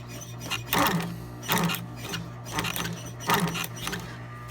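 Sewing machine stitching replacement piping on a Louis Vuitton Retiro PM bag, running in short bursts of rapid needle clatter separated by brief pauses over a steady low motor hum, close up.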